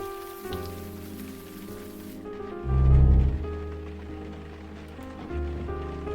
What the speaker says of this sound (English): Ugh, stupid rain.